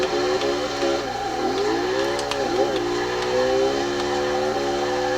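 A 2008 BMW M3 drift build in Forza Horizon 2 holds a loud, sustained engine howl while drifting, its pitch dipping and climbing with throttle changes and gear shifts, steady and close throughout.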